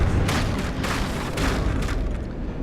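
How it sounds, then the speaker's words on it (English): Cram cannons fire in the From the Depths naval combat game, producing a dense stream of heavy, rumbling booms that blend into one continuous roar with a few stronger thuds standing out, and no voices. "not a single shot from those cram cannons hit"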